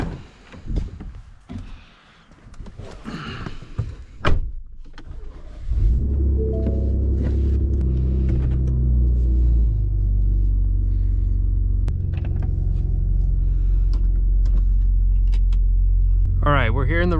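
A 2018 Ford Raptor pickup truck starts, and its engine settles into a steady low idling rumble as it warms up, preceded by door and cabin handling noises, with people talking inside.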